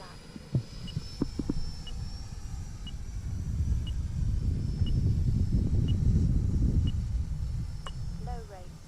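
An Arrows Marlin 64 mm electric ducted fan RC jet flying and coming in to land, a steady whooshing fan roar swelling and fading over a few seconds, with a faint tonal whine and brief talk near the start.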